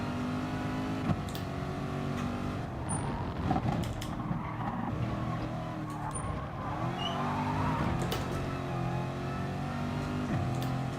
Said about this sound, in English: Spin the wheels quite easy